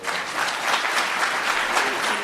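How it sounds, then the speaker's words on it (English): Steady applause from a conference audience, a dense wash of clapping that stays at an even level throughout. "would you please join me in a round of applause"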